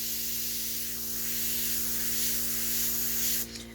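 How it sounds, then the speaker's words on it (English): A spray bottle mists water onto painted fabric, a continuous broad hiss lasting several seconds that cuts off abruptly, over a steady low electrical hum. "we're putting the paint on first, and then we're spraying it."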